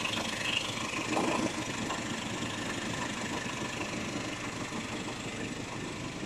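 A 2010 Nissan Pathfinder engine idles with an abnormal noise, a steady, moderately loud mechanical hum and rattle heard close up without talk.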